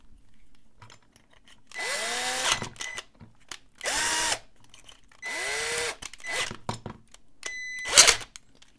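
A power drill whirs in several short bursts, spinning up and biting into a padlock's metal core in a drilling jig, with quiet pauses and small clicks between runs.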